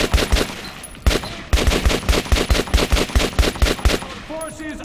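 Repeated shotgun blasts in Metro 2033 Redux, a rapid run of loud, close booming shots with brief gaps, with a short pause near the second mark and a calmer tail at the end.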